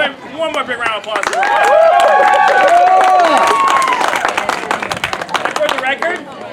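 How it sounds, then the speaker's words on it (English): Audience applause and cheering at an adult-rated sword swallowing stage show, loud and sustained claps with whoops and voices shouting over them, tapering slightly toward the end. "One more big round of applause."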